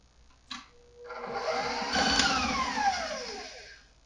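Electric stand mixer creaming gingerbread batter, whirring up to a steady loud drone after a brief knock, the motor pitch sliding slightly as it runs, close by with no talking.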